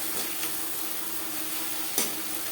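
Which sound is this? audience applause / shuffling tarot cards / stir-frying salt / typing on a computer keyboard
stir-frying salt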